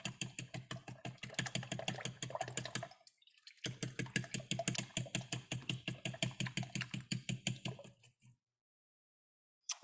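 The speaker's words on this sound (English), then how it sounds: "I'm just gonna use a fork to kind of whisk these eggs and these wet ingredients together" Fork whisking eggs and wet ingredients for cornbread buckwheat muffins in a bowl: rapid, steady rhythmic tapping and scraping, close and fairly loud, with a brief pause near three seconds and falling silent before the end.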